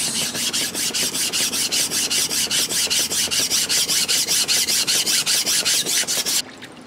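An 18 cm Tosyu gyuto knife is rasped back and forth across a whetstone in a steady, quick rhythm of close, loud strokes. The strokes run continuously until they stop abruptly near the end.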